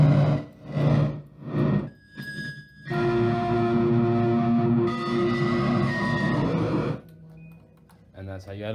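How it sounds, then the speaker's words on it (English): Distortion effect applied on a DJ mixer, making gritty, buzzy processed bursts and a sustained harsh distorted tone, with pauses between sections and a voice speaking briefly near the end. "Oh, a little distortion."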